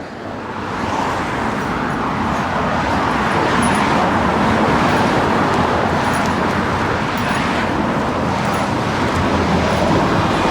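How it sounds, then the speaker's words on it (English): Busy city street traffic in central Sydney, with a continuous loud roar of cars and a bus passing close by, engine and tyre noise steady throughout and no one talking. "Just wait for this traffic to pass."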